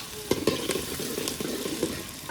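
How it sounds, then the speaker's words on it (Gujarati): Onions and chillies frying in a pan for a gravy, a steady close sizzle with a few sharp clicks and scrapes of stirring, no voices. "ડુંગળી અને મરચાં નાખી ડુંગળી મરચાં નખાઈ ગયું છે"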